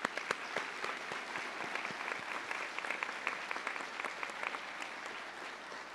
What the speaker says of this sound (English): So let's all give them a round of applause.